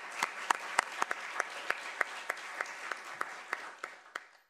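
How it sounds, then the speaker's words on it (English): A small audience gives a short round of applause for Senator Kelly at a K-State student meeting, sparse distinct claps spaced out rhythmically that fade away after a few seconds. "Let's give him a round of applause."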